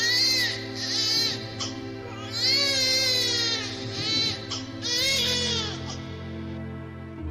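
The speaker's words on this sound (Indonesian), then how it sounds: "suara tangis Ismail semakin kencang." Loud, sustained infant crying with rising and falling wails, used as a sound effect in a retelling of the story of Hajar and her baby son at the hills of Safa and Marwah; no speech over it.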